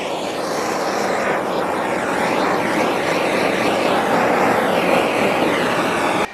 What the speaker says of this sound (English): And then I also like to take a propane torch.